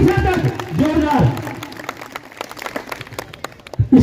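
After a speaker's loud address, scattered applause from an audience at a community conference and festival gathering breaks out, a light, crackling patter of clapping that builds toward the end.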